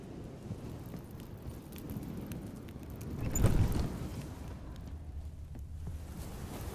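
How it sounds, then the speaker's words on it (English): Thunder rumbles with rain in the Witcher 3: Hearts of Stone game. A steady rain wash runs throughout, and a low roll of thunder swells and fades midway through. "The storm."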